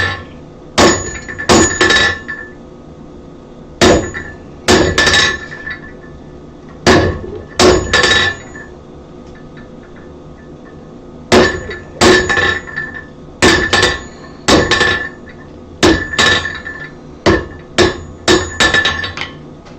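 Blacksmith chopping through a piece with tongs nearby, with loud, ringing metallic hammer strikes in quick clusters of two to four, separated by brief pauses, close and without talk.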